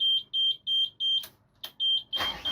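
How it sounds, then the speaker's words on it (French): Repeated high electronic beeping from the oil warning alarm on a sailboat's newly replaced inboard engine, sounding in a steady series of short pulses, loud and close, with a couple of brief clatters in between. "C'est normal qu'il bip bip quand on chauffe?"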